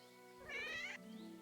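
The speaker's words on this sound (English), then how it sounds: "she got a couple of cats with her." A cat meows once in a medieval game world, a clear drawn-out mew rising and falling at close range over a soft ambient hum, with no talk during it.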